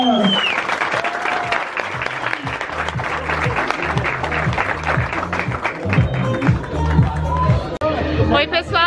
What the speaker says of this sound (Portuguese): Palmas para o Adriano Imperador!